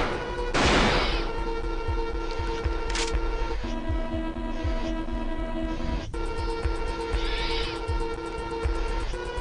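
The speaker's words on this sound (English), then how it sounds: "Shotgun hits every single time though, or thinks it does anyway." Shotgun blasts in the video game Alone in the Dark: The New Nightmare: a few sharp, loud bursts spaced several seconds apart over a sustained, droning musical background.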